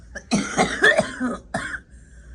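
A person coughs close by, a short cluster of rough coughs followed by one more hack after a brief pause.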